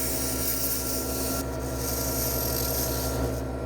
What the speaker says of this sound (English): These are very, very fine shavings I'm taking now.